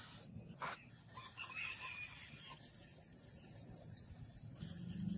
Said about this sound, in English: Spent 2 days for just sharpening this katana.